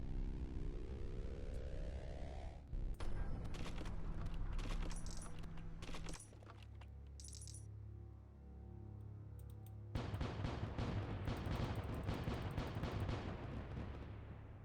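Ship cannons in the space-sailing video game Void Sails fire at cracked rocks, giving a loud run of booms and crackling impacts over a droning game soundscape, with a quieter gap before more blasts and debris follow.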